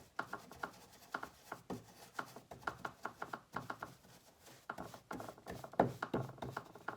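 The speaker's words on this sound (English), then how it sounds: "it will just add a little bit of streaking to the area that I am applying wax." Coarse paintbrush dragging wax across a wooden bed frame, a steady run of short, close scrubbing strokes in an uneven rhythm, with no talk over it.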